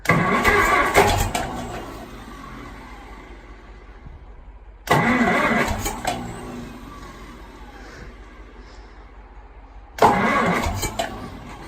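A Farmall M diesel tractor engine, running on gas after two to three years idle, cranks and catches three times in a row, each start bursting loud and settling into a rough idle before cutting off, with faint voices between.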